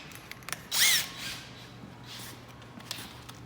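A power drill boring a quarter-inch hole through a carbon fiber door with a dull bit: one loud whining burst of about a third of a second, then a softer grinding pass, with faint clicks and handling noise around it.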